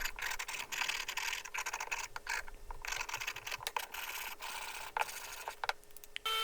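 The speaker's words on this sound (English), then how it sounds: "we're going to go ahead and scrape all the glue and the goo and all the remnants off" A hand scraper drags across scrap wood to clear off old glue and remnants, making close, faint, repeated rasping strokes in an uneven rhythm with brief gaps and no talking.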